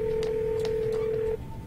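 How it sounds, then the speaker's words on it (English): Telephone dialing in the Nancy Drew game Ghost of Thornton Hall: a steady electronic tone holds for over a second with a few short key blips over it, then cuts off, alone without talk. "now let's call some people"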